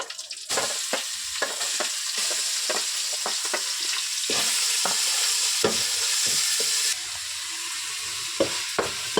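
Chicken for momos frying and being stirred in a pan, a loud continuous sizzle broken by frequent sharp scrapes and clacks of a spatula against the metal, close and with no talking.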